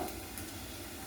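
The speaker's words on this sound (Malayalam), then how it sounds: "ഇതാണ് വറുക്കാൻ വെച്ചിട്ട് നല്ല ഫ്രഷ് മീനാണ്, വറുക്കാനായിട്ട് വെച്ചേക്കുവാണ്." Fresh fish frying in a pan gives a steady, even sizzle that holds for the whole short moment, close and moderately loud, with no voices over it.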